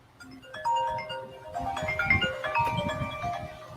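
A phone ringtone plays a looping electronic melody, clear and fairly close, with faint background voices.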